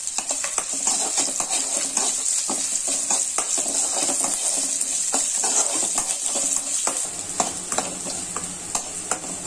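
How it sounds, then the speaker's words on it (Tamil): Half a cup of small onions sautéing in a pan with a little salt, a bright steady sizzle punctuated by frequent light clicks and scrapes of stirring, close up with no speech. "எல்லாமே கொஞ்சம் வதங்கட்டும்"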